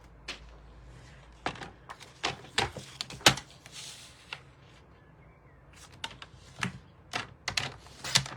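Scissors cut through paper card stock in a series of sharp, close snips and crunches, bursts with short pauses between them.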